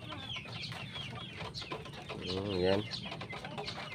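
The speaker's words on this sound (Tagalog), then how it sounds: "Ilagay na natin yung ating masisiw diyan sa bagong kulungan natin." Chicks clucking and peeping after being placed in a new coop, a steady chorus of soft chirps close by with one louder call midway, while someone speaks briefly.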